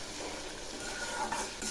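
Spices, including chili powder, sizzle as they fry in a pan for muri ghonto, with a spoon scraping and stirring through them in a short, close burst of crackle and clatter.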